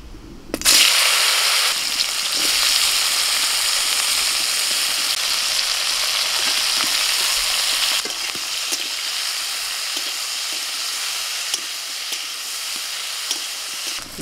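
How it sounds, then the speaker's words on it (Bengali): Okra sizzles and crackles loudly in hot oil during village cooking, a dense steady frying hiss after a sharp start, easing slightly partway through with scattered pops and stirring sounds, no voices. "তেল গরম হয়ে গেছে, ঢ্যাঁড়সটা একটু ভেজে নেব।"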